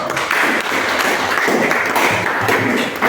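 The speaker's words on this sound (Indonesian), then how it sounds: "Ya, kita beri aplaus dulu." A classroom of students applauding after a prayer, dense steady clapping from many hands at close range that continues throughout without a break.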